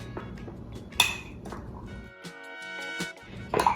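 Overnight oats with chia seeds, milk and honey mixed in a bowl: close spoon clinks and scrapes against the dish in irregular bursts, with quiet pauses between strokes.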